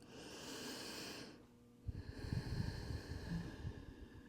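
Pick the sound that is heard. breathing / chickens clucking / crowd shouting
breathing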